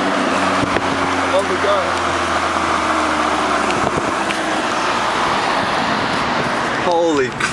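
A Porsche Cayenne GTS rolls slowly past on a San Francisco street, its engine rumble steady under busy traffic noise and excited talk, with a brief tonal sweep near the end.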